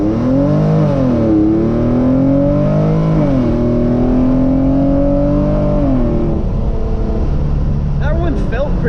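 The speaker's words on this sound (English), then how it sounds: "I'm just gonna hit the gas from a standstill" A tuned Hyundai Genesis Coupe 3.8 V6 accelerates hard from a standstill, its engine note climbing and dropping with gear changes, heard loud and close from inside the cabin.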